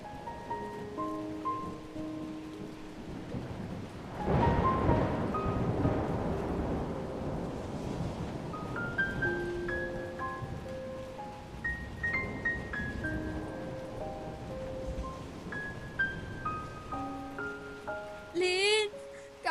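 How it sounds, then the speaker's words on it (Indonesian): Rain pours steadily in a thunderstorm, with a heavy rumble of thunder early on, all under dramatic music in a family drama scene. "ini sedang hujan"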